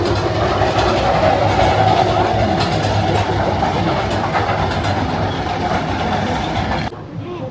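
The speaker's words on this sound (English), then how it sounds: "That's one of the trams that actually takes you up the mountain." A Snowdon Mountain Railway train in Wales rumbles loudly and steadily nearby, a continuous mechanical roar with faint rattling that holds for several seconds before cutting off abruptly.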